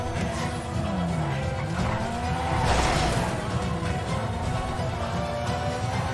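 Tires squeal and an engine revs as a car skids through a GTA roleplay game, a steady continuous screech with swooping pitch that carries on without pause for the whole stretch.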